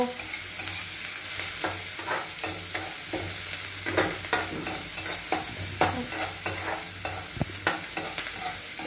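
Chicken frying in a pan with onion, green chilli and tomato, a steady close sizzle broken by regular scraping stirs, with no talk.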